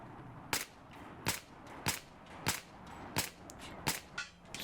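Pistol shots from the Battlefield 4 video game, fired at a 12-meter target: seven sharp, evenly spaced cracks about every 0.65 seconds, loud and close over a low ambient bed.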